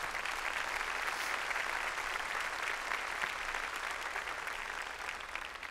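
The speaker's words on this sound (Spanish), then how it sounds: "Démosle un aplauso fuerte al Señor." Church congregation applauding loudly in worship, a sustained dense roll of clapping that stays even for several seconds and then tapers slightly.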